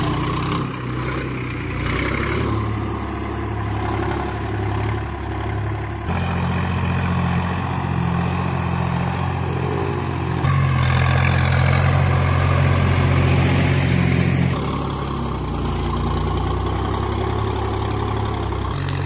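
Kartar 5236 tractor engine running steadily, a loud close diesel drone with a low throbbing hum that shifts in pitch and load a few times, heard alone without talk.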